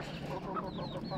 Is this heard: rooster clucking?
yes